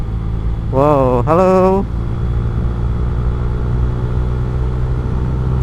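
Honda Vario scooter engine during a night ride, a continuous loud low drone with road and wind rumble, and a brief spoken exclamation early on.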